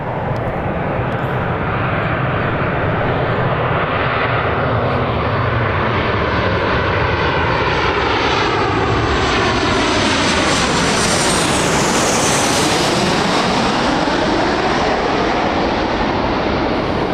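A Ryanair jet airliner arrives at Birmingham airport, its engines a loud, sustained roar that swells and sweeps in pitch as the plane passes close by, with no voices over it.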